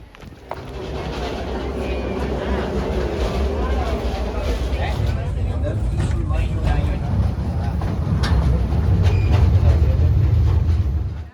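Steady rumbling of a moving train with rattling carriages at Iguazú Falls, Argentina, continuous and fairly loud throughout, growing slightly heavier toward the end.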